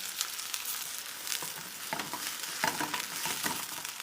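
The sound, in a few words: chopped onion frying in hot ghee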